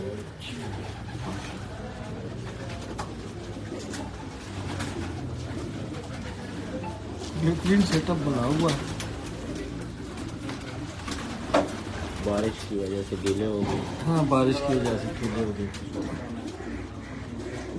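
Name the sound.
Kamangar pigeons cooing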